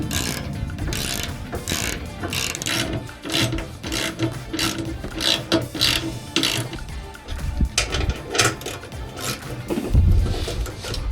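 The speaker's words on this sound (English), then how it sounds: "It's just kind of going back and forth with all of the bolts once you get that aligned up there." Ratchet clicking back and forth as bolts on rock sliders are tightened during an install on a Toyota Tacoma truck, with repeated close mechanical clicks and metallic clatter throughout, no talking.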